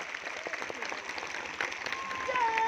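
Crowd applause greeting a speaker at an outdoor statue-unveiling rally in India, a continuous clatter of many hands with voices shouting and talking over it and a faint whistle-like tone rising toward the end.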